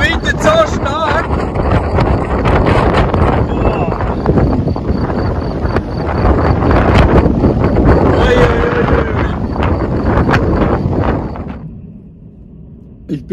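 Strong gusting wind outdoors beside a camper van ahead of a heavy thunderstorm, buffeting the microphone with loud, continuous broadband roar and blowing straw around, easing off near the end.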